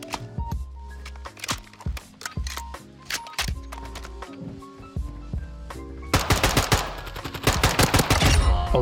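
A hidden weapon in Modern Warfare 2 fires a string of sharp, close shots, spaced and slow at first, then a dense rapid clatter of fire near the end.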